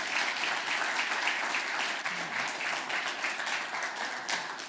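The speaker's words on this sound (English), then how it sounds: "Please, a round of applause for them." Audience at a Dallas press club panel applauds steadily and fairly loudly, a dense sustained clapping that holds at an even level for the whole stretch with no voices on top.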